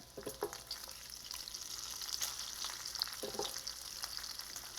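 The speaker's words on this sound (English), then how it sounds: "we gotta get the bacon cooked up" Bacon fries in a pan for a California club sandwich, a steady crackling sizzle with scattered pops and a few louder spatters, close and continuous with no one talking.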